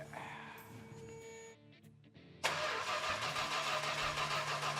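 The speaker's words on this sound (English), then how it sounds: "Let's start cranking this mother biscuit over." A 1970 Plymouth Superbird engine cranks over and catches. A brief starter whir and pause give way to a sudden loud burst that settles into a steady, rough idle close by.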